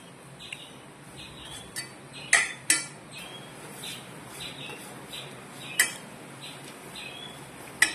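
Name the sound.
stirring vegetable cutlet mixture in pan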